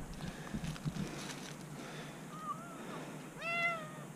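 A rescued cat gives a few faint, high meows, the last one near the end sounding clearer, over a quiet outdoor background with soft rustling.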